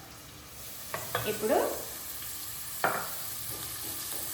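Onions frying with salt in a pan while being stirred, in two short bursts of scraping and sizzle between quieter stretches; a voice speaks briefly.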